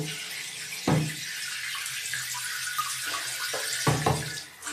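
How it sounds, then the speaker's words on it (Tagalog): Shower water runs steadily in a home bathroom during a rinse-off, a continuous broadband splash with a few louder bursts as the flow hits the body or floor, heard alone without talk. "Ayan, nagbabanlaw na tayo sa shower namin."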